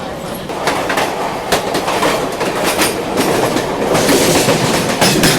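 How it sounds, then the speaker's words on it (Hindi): The Koyna Express crosses close by, a loud continuous rumble of rail wagons with rhythmic clickety-clack wheel beats over the track joints, steady throughout. "कोयना एक्सप्रेस अपनी जस्ट क्रॉसिंग हुई है यहाँ पे।"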